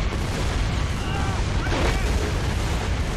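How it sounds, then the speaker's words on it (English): An explosion in the video game Gears of War 2, a loud boom with rumbling debris and battle noise throughout, heard beneath players talking. "Man, we just walked right through that explosion."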